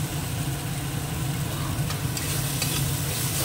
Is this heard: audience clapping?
no